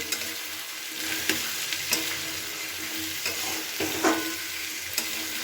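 Cut potatoes are stir-fried in hot oil in a pan, a steady close sizzle broken by occasional scrapes and knocks from the stirring utensil.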